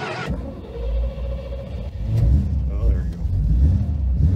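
Carbureted car engine cranking after a fuel pump change, a short turnover that catches into a rough, low rumbling idle, with people talking over it.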